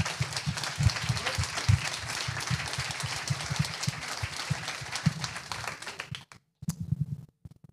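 Applause from an audience at an evening association event, brisk scattered clapping at moderate distance that thins out and breaks off near the end, with a few last claps after a brief pause.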